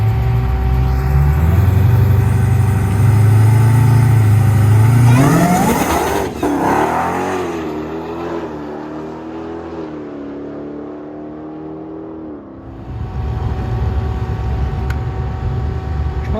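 A 2011 Dodge Challenger with a swapped-in Hellcat engine idles with a deep rumble, then revs up sharply in a loud roar and settles back to a throaty, lumpy idle.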